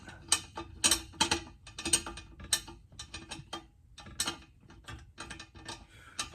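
Threaded fasteners being loosened by hand on a homemade disc cooker, giving quick bursts of metallic clicking and ratcheting with short pauses, close and fairly clear.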